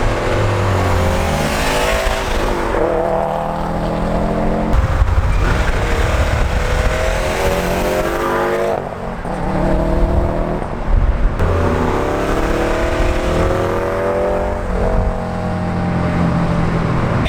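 A 2011 Subaru STI with an Invidia Q300 exhaust revs repeatedly with a loud, raspy tone, rising and falling in pitch, heard close and continuous without any talking.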